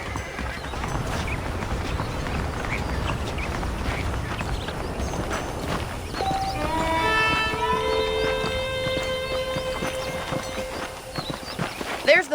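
Horses' hooves clip-clop in a steady rhythm beneath a voice in Red Dead Redemption, joined midway by a bright sustained tonal sound; the whole scene sounds game-like.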